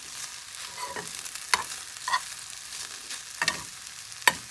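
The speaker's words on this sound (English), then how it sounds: "Mix that in a little bit." Quinoa fried rice with soy sauce is stirred in a pan over a low sizzle, with a few sharp utensil scrapes and clacks against the pan at irregular intervals, close and moderately quiet.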